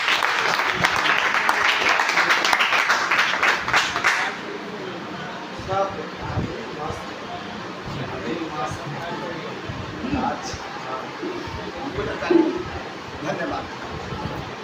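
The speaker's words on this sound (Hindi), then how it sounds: "इनके लिए जोरदार ताली" Loud audience applause for a speaker at a motivational class, dense clapping for about four seconds before fading into murmuring crowd chatter and scattered claps.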